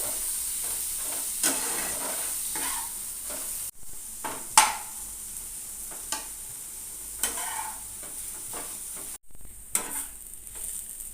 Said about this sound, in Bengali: শাক ভাজার সময় গ্যাসের ফ্লেমটাকে তো লোতে রেখেইছি মাঝে মাঝে ঢাকনা তুলে কিন্তু শাকটাকে একটু নাড়তে হবে